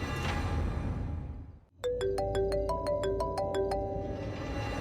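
A mobile phone ringtone chimes in a repeating melodic pattern of bright tones, loud and close, cutting in after a brief drop in background noise inside a car.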